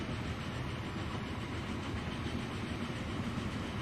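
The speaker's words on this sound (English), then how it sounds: "That is a lovely locomotive." Locomotive in the video game Transport Fever 2, a steady dense rumble of engine and rolling rail noise, continuous and fairly loud with no talk.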